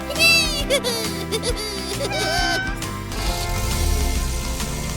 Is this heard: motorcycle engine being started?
no